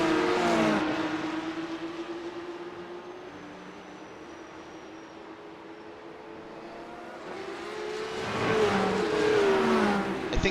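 Porsche 911 Cup (992.2) race cars accelerating in iRacing at Le Mans, engines climbing through gears with a loud surge at the start, a quieter steady stretch, then another close pass building to full revs.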